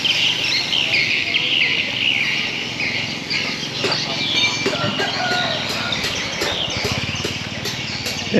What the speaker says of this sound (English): they seem to have a lot of birds hanging around them, making a lot of noise